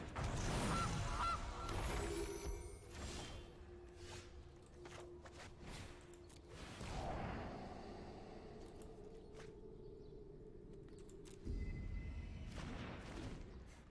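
Repeated goose honking in the digital card game Magic: The Gathering Arena, bursts of loud calls spread across mechanical game sounds and clatter, with no talking.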